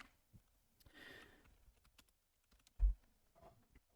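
Brief bursts of typing on a computer keyboard, soft and close, with one louder thump of a key or desk knock near the end; no speech.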